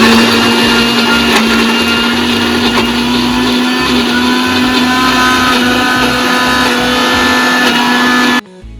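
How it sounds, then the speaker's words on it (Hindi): Mixer grinder grinding soaked spices for a Rajasthani potato, onion and paneer curry, a loud steady motor whine running continuously before stopping abruptly at the end. "रात भर पानी में रख के अब हम इसे पीसेंगे।"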